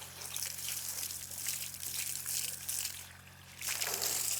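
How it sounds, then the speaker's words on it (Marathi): Borewell water pouring into a farm well, a steady broad rush of falling water that dips briefly and then swells again near the end, with no voices. "विहिरीत पाणी, बोरचं पाणी सोडलेलं आहे"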